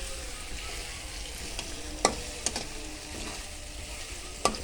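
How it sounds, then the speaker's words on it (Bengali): Onions sizzle in a pan with cinnamon and cardamom as they are stirred, giving a soft, steady frying hiss with a few sharp clinks of the spoon against the pan. "দারচিনি, এলাচ এগুলো দিয়েছে, নেড়ে চেড়ে নিচ্ছে।"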